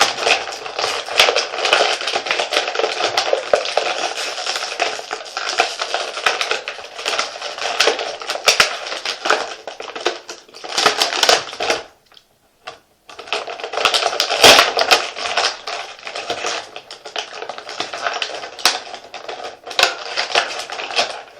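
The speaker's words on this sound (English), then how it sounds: "let's get them both out of the package, get all the noise out of the way in one go" Crinkly plastic and cardboard action figure packaging rustling and tearing by hand, loud and close, continuing steadily with a brief pause partway through.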